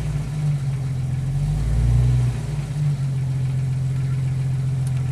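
A Jeep with an AX15 transmission and worn synchronizers idles steadily while backing up slowly, a low, even engine drone that swells slightly for a moment midway and then settles back.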